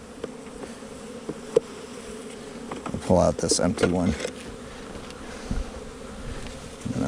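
Honey bees buzz in a dense, steady drone around an open hive during an early spring split, close and continuous beneath a beekeeper's brief speech.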